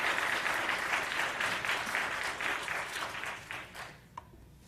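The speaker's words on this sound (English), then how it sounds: "hold your applause." An audience bursts into applause at a school board meeting, a dense wash of clapping that stays strong for a few seconds and then fades out abruptly.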